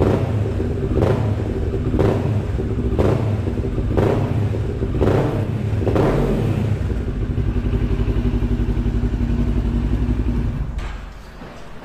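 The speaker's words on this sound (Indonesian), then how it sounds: "Nah, ini suara knalpotnya kalian dengarkan." A Kawasaki Ninja 650 motorcycle with a racing exhaust idles with a deep, throaty rumble, punctuated by about six regular revs before settling lower near the end.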